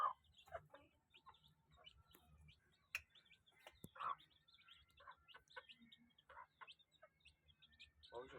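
A hen clucks among her chicks, giving a series of short, irregular clucks and sharper calls mixed with faint peeping from the chicks, fairly quiet and close by.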